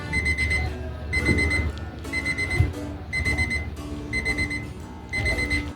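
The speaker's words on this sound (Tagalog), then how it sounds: "ganun nga yung tunog pag nag-a-alarm na nga itong alarm clock" An alarm clock rings in repeated bursts of high electronic beeping, about one per second, loud and close, with a rumbling background underneath.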